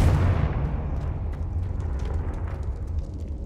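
A fire-blast spell bursts in Hogwarts Legacy, a loud deep rumbling boom that fills the low end and rolls on steadily for several seconds with no pause.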